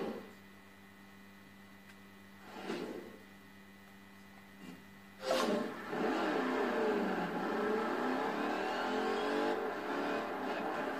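Car engines revving in the racing video game Forza Horizon, a low idling hum broken by short throttle blips, then a loud surge into a sustained high rev that holds steady.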